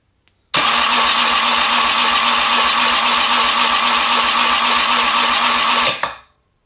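A BMW R80 motorcycle's starter motor cranks steadily for about five and a half seconds, a loud whirring, buzzing drone up close that cuts off and winds down.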